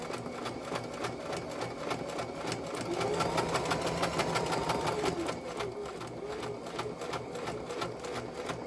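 A sewing machine back stitching fabric for a file folder portfolio, running in a steady rapid stitch rhythm for the whole stretch and swelling slightly louder midway, alone without talk.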